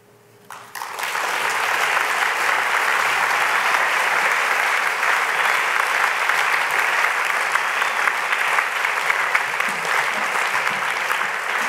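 Audience applause at a National Book Awards fiction reading in 2019 starts after a brief quiet moment, then holds as steady, dense clapping from a large seated crowd for the rest of the stretch.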